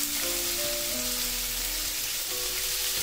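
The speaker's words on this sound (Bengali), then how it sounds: "এবারে আমি এতে দিয়ে দেব সবজি, দিয়ে দিচ্ছি গাজর কুচি, দিয়ে দেব বিনস কুচি" Chopped carrots and beans frying in a pan for Bengali-style fried rice, a steady close hiss of oil with faint tonal hum underneath and no voices.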